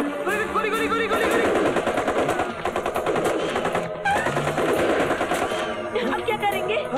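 Rapid bursts of automatic gunfire from a helicopter rattle loudly and almost continuously in an action film scene, with a voice shouting over the shooting.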